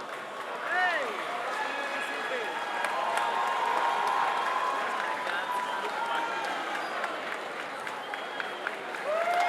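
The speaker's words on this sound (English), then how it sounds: "Ladies and gentlemen, a round of applause for our brilliant 11-year-old artist for putting this together in 2 hours." Audience applause with cheering and whoops for an 11-year-old artist at a live evening event, a steady crowd roar sustained throughout with scattered voices calling out over it.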